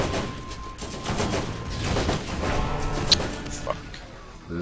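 Turret gunfire in Borderlands, a rapid burst of loud shots with crashing impacts under game noise, fairly close and irregular, with a sharp crack near the end.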